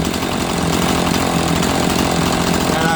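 A Husqvarna-style Rancher chainsaw with an 18-inch bar idles steadily and loudly up close, a continuous even engine burble with no revving throughout.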